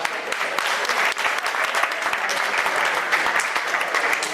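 A large audience at an Iftar event claps in a sustained, dense round of applause, even and full from start to finish with no talk over it.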